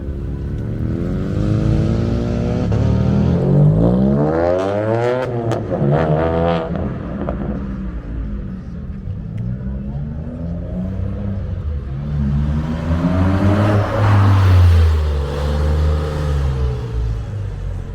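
A car pulls in and revs at a Cars and Coffee meet in Nantes, a rising and falling engine roar with throttle blips mid-clip and a second swell near the end, loud against crowd murmur.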